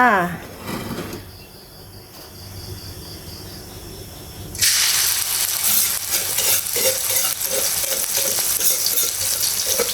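Loud, continuous sizzling of hot oil in a frying pan for stir-fried frog with holy basil kicks in partway through after quieter clattering, crackling steadily to the end.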